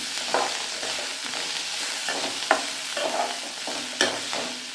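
Coriander leaves being sautéed in a pan for chutney, with a continuous sizzle and a few louder scraping stirs that stand out from it.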